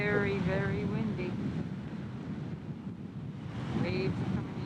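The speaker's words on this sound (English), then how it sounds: "Waves are coming in." Ocean waves and strong wind at a rocky shore with fishing boats, a constant roaring wash buffeting the microphone, with a person speaking over it at the start and end.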